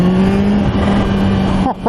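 A supercharged Kawasaki Ninja H2 motorcycle engine runs with a steady, loud drone and a high supercharger whine, ending in a couple of quick throttle blips.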